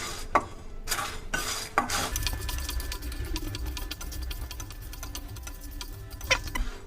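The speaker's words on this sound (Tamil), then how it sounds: "இப்போ நம்ம இதை நல்லா வறுத்துக்கலாம்." Steady clatter and scraping of a utensil stirring spices as they dry-roast in a pan, with scattered metallic taps and a low background rumble throughout.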